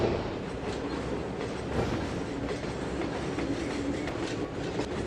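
Freight cars rolling down to a lower yard track in the Trainz 2022 railway simulator, a continuous heavy rumble with faint rhythmic wheel clatter, loud and steady throughout.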